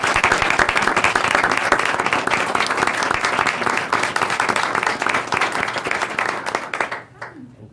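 Applause from an audience at a school board tenure reception, dense rapid clapping sustained for several seconds before quickly fading out at the end.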